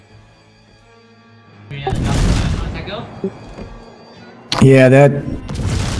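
Ship guns firing in the World of Warships video game: deep booming salvos, one rumbling blast early and a sharper, louder one later, with someone speaking briefly between them.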